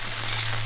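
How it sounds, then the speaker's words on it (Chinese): Loach fish dropped into a hot wok, a brief, even hiss of sizzling oil heard close up, with a low steady hum beneath and no speech. "泥鳅下锅了， 好， 下锅焖起，"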